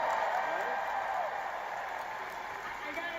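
Crowd applause at a D23 Disney parks showcase, a steady wash of clapping and cheering at moderate loudness that holds through the whole moment and tapers slightly toward the end.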